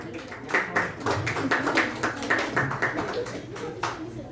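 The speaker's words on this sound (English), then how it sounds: "Please give a tremendous round of applause" Applause from a small audience after table topic speakers at a youth leadership meeting, a few people clapping in a loose, uneven rhythm, close and moderate in level.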